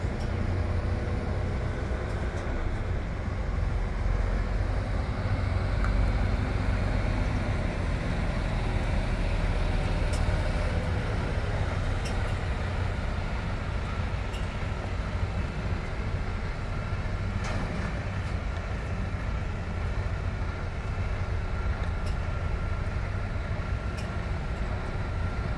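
Daimler bus maneuvering to reverse park between pylons, a steady low engine rumble with road noise, continuous and fairly loud, with faint occasional clicks and no talk.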